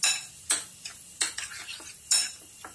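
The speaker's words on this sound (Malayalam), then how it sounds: "നന്നായിട്ട് ഇളക്കി യോജിപ്പിക്കുക." A spoon clinks and scrapes against a pan as squid is stirred and mixed with tamarind and salt for a Kerala squid roast: about five sharp, close knocks at irregular intervals, with no voices.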